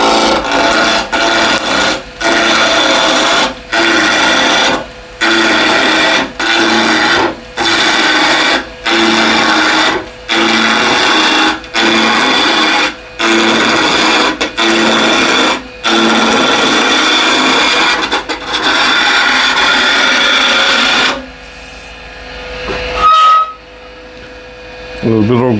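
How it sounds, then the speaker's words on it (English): A wood lathe spinning at 1700 RPM roughs a square blank with a large Continental spindle gouge, making repeated scraping, rasping cuts in short bursts with brief gaps, close by, before fading to quieter handling noises. "Now to rough this square blade down, I'll use this big Continental spindle gouge."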